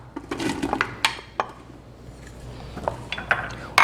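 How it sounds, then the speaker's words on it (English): Chopped onion for a Goya chili is tipped into an Instant Pot, giving a run of near, sharp clinks and knocks of utensil against the metal pot. Between the clatters the sound stays quiet, with no voice. "I'm adding to the Instant Pot a medium onions chopped"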